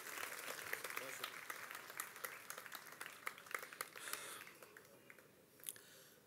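Scattered, moderate applause from a seated mushaira audience at Jashn-e-Rekhta 2016 welcoming poet Abbas Tabish, steady clapping with faint murmurs that thins toward the end.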